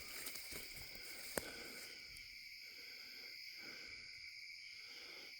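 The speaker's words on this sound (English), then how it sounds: "A lot of crickets." Dense cricket chorus in dark woods at night: steady, continuous high-pitched chirring that holds throughout, with a soft thump near the start and faint rustling movement underneath.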